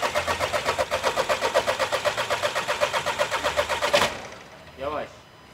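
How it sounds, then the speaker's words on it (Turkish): A Skoda Rapid after a coolant pump repair cranks with a rapid, steady starter chugging for about four seconds, then the engine catches and the cranking stops, followed by a short rising mechanical whine, close and loud. "Şimdi aracı bir çalıştıracağız."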